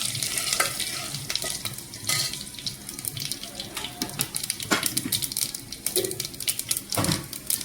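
Peanuts and finely chopped garlic frying in a pan while being stirred, giving a busy crackling sizzle with frequent sharp spoon scrapes and clatters that rise and fall unevenly throughout.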